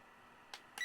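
An Odoland F9 camping fan gives two short, sharp electronic beeps as its timer is set, the second slightly louder, against a faint steady background hum.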